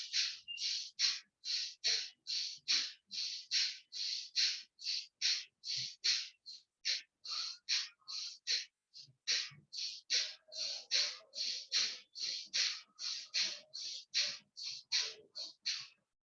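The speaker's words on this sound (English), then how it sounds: "Continue to breathe like this with rapid gasps" Rapid, forceful gasping breaths drawn in a breathing exercise repeat in a quick, even rhythm for the whole stretch, close and clear, with no talking.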